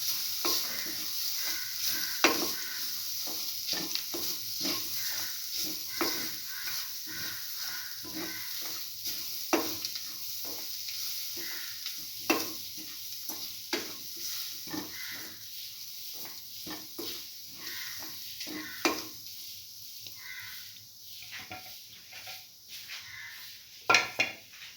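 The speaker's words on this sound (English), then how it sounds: "saute grated coconut with the rest of the mixture" Grated coconut sautés with an onion and tamarind mixture in a pan, a steady soft sizzle broken by frequent scraping clicks of a spoon stirring against the metal, close and without talk.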